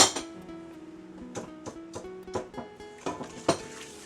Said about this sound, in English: I'm going to whisk that up really well.